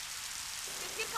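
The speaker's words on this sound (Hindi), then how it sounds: "बहुत हो गई बारिश।" Steady rain falling outdoors, a continuous soft hiss filling the background with a faint patter, no voices.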